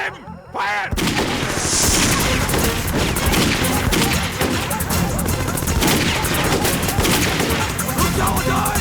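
Dense, rapid gunfire fills a Hindi action film shootout starring Sunny Deol, with overlapping shots and booms continuing loudly without pause after a brief opening moment.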